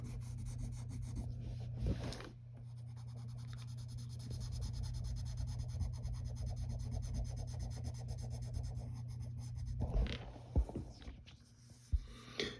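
Side of a pencil shading on paper while drawing a cartoon chameleon: a steady, soft, close rubbing that runs for about ten seconds, pauses briefly, then returns in short strokes, with no voices.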